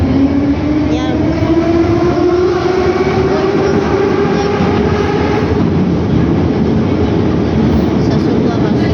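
A metro train in Baku runs close and loud, with a steady rushing roar and a motor whine that slowly rises in pitch, heard from inside the carriage.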